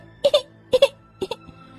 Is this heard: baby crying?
yes